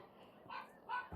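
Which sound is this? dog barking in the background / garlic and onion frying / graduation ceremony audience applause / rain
dog barking in the background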